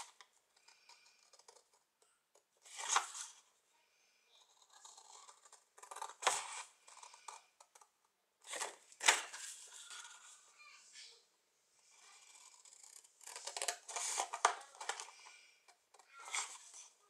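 Scissors cut the small sides of a paper box in several separate snips and short runs of crisp crunching, with quiet gaps between the cuts.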